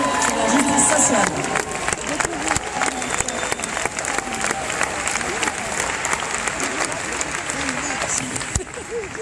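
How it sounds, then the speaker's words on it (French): A forum audience at an event in Fribourg breaks into loud, sustained applause, steady clapping from a large crowd filling the room and fading slightly toward the end, with voices faintly mixed in. "je vous invite à applaudir Philippe de Courroux"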